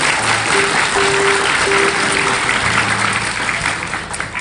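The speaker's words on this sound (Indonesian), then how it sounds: "Boleh tepuk tangan." Television studio audience applauding a young singer guest, steady loud clapping with a faint musical tone running underneath throughout.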